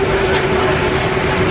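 A Paris metro train rumbles steadily through a station or tunnel, a loud, continuous rolling roar with a faint tonal hum and no clear speech.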